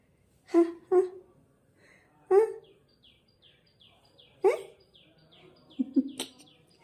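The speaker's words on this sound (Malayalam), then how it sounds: "കുറേ കിളി വന്ന്" Several small birds chirp close by in a quick, faint series of tweets, broken up by a few louder, sharp calls or exclamations.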